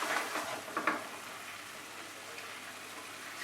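Poppy seed and cashew paste frying in a pan for chicken rezala gives a soft, faint, steady sizzle, with a couple of light stirring scrapes near the start.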